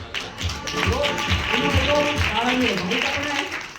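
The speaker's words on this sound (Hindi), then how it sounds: "जबरदस्त तालियां" An audience claps loudly and steadily at a direct-selling meeting, with a voice talking over the clapping throughout.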